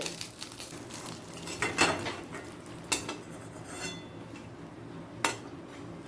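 Fried topse fish fritters are lifted from the pan into another pot with a metal utensil. A few sharp, scattered clinks and scrapes sound close by over a quiet background hiss.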